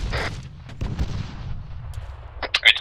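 Gunfire in the military shooter game Arma 3 cracks in several distant bursts and single shots, with a faint voice near the end.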